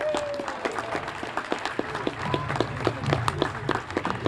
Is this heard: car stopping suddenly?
no